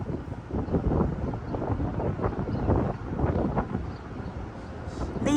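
Steady wind blowing outside in New York during wildfire smoke drifting from Canada, a continuous rushing roar with gusty swells, close to the microphone and with no talking.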